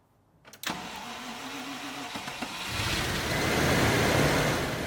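A Range Rover being started to drive out of a workshop: a click and brief cranking, then the engine catches and settles into a steady running note that swells louder, with no talk over it.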